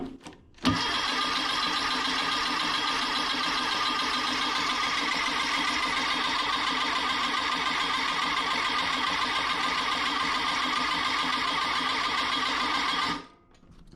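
A 1776cc engine turns over on the starter while fuel is primed, giving one long, steady, droning crank for about twelve seconds, fairly quiet, that starts and stops abruptly.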